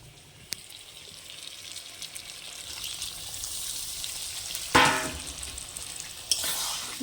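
Egg and potato coated in masala sizzle in a spiced gravy in a pan, with a steady soft frying hiss and a few louder bursts and scrapes as the mixture is stirred.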